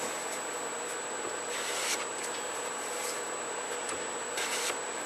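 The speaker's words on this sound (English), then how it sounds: "Lay your blade flat, put pressure on the front, and drag it back." A spokeshave blade is dragged flat across a sharpening stone in repeated short strokes, a steady close-up scraping rasp with a faint constant high whine in the background.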